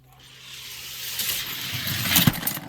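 Hot Wheels die-cast toy cars, a NASCAR number 44 against Side Splitter, rolling down a plastic track, a rising whirring rumble that builds and ends in a sharp clatter near the finish, with no talk.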